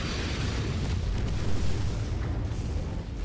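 Artillery explosions in the MechWarrior 5 video game thud as dull, steady low-frequency booms beneath a continuous rumbling battlefield din, with no clear separation between individual impacts.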